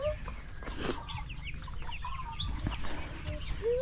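Young broiler chickens cluck and chirp near a backyard vegetable garden, a busy chatter of short calls over a steady low rumble.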